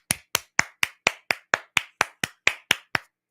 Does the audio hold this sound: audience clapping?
yes